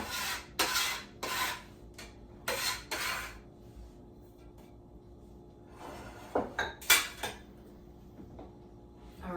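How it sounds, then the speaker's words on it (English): Knife chopping and mincing celery on a board in a home kitchen, heard as clusters of sharp close clicks and taps separated by quiet gaps. "next we're going to mince up some celery"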